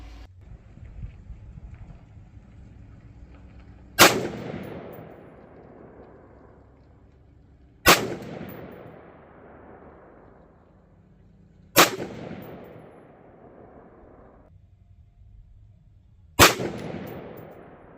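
A rifle fitted with a low-power variable optic fires four single shots, spaced about four seconds apart, each a sharp loud crack trailing into a long rolling echo outdoors, with no talk in between.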